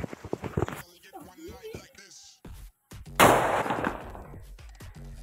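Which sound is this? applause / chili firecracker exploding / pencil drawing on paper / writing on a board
chili firecracker exploding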